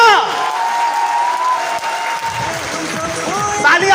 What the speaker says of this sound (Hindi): और जोरदार वाली तालियां।